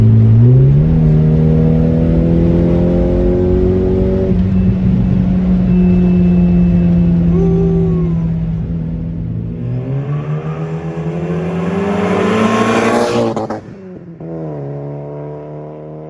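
A 1991 Volkswagen Golf GTI G60 accelerates hard. Its engine note climbs steadily in pitch for several seconds, then drops abruptly near the end and settles back to a lower drone. It is loud and close, with no talking.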